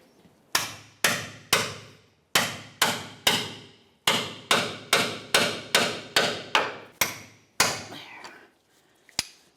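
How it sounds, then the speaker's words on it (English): A hammer strikes a pickle fork to free a track bar on a 1994-2002 Dodge Ram 2500 about fifteen times in a steady, forceful rhythm, each sharp clang ringing briefly before the next, close and loud. "We'll use our hammer to break this free."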